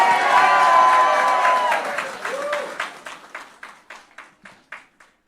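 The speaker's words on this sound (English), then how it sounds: "Give him a round of applause" Crowd applause and cheering greet the arriving, newly re-elected president of Guyana, loud at first beneath an announcer's voice, then thinning out into a few scattered, separate claps that fade away.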